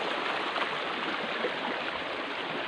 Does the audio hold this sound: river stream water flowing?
yes